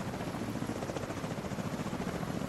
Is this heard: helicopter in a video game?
yes